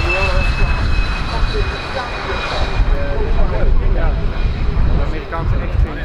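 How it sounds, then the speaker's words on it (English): Belgian Air Force F-16 jets of 350 Squadron coming in to land at the Royal International Air Tattoo air show, a steady loud jet roar heard under continuous commentary from a man. "D-Day F-16s coming in to land the 350 Squadron aircraft"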